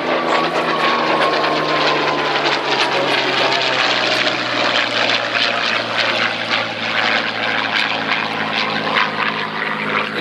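A Yak-3, a Second World War fighter, flies at an air display at East Kirkby. Its piston engine gives a loud, steady propeller drone that dominates the whole stretch and shifts slightly in pitch as the plane passes.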